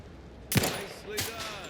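Two close, loud gunshots ring out on a live-fire range in the video game The Outer Worlds 2, about half a second apart, each trailing a short reverberant tail.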